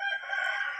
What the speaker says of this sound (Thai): ไก่กำลังขันเนาะ